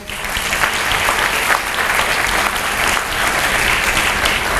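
Steady, loud applause from an audience at a hall of fame induction ceremony, sustained clapping throughout without pause.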